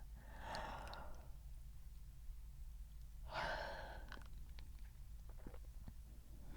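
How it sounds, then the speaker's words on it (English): A person gives a slow, breathy yawn, then a second one a few seconds later, both soft and close in a quiet, calm room. "Now a yawn to help you."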